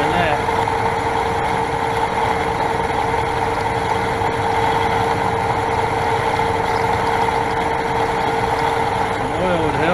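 A metal lathe cuts dry with a carbide tool during a parting job, giving a loud, steady whine and hum with grinding texture that runs throughout.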